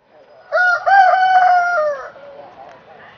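A rooster crows once at a riverside ancient town where three provinces meet, a loud, clear, drawn-out call with rising and falling tones, followed by faint background murmur.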